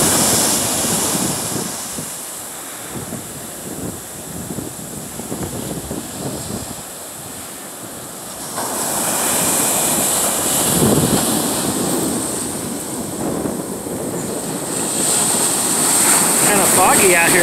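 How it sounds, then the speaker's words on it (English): Wind gusts across Harris Beach in Southern Oregon on a chilly, foggy day, a loud broadband rush buffeting the microphone that swells about halfway through, with distant surf blended underneath. "The wind's blowing, it's kind of chilly."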